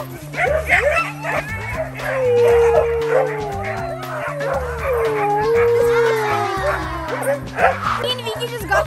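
Sled dogs in Mont Tremblant, Quebec bark, yip and let out long wavering howls in a close, excited chorus that continues throughout, with people talking over the noise.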